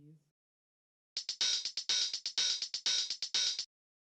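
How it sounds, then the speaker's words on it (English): Crisp, low-pass-filtered open and closed hi-hats tick out a steady house-beat pattern for a few seconds, the short closed hits alternating with longer open hiss, alone after a brief low tone at the start. "just an open hi-hat and a closed hi-hat with a low-pass filter on each of them"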